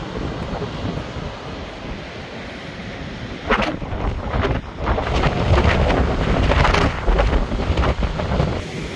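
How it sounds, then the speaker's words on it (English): Strong wind roars and buffets the microphone continuously on a hike to a waterfall, growing louder and gustier partway through, with no voices heard. "It's very windy here."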